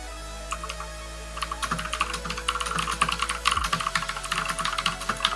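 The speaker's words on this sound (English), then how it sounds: "I'm glad you guys can hear my keyboard being nice and loud" Rapid typing on a loud computer keyboard during an online game match, with dense, continuous clacking keystrokes that are close and prominent, running alone without speech.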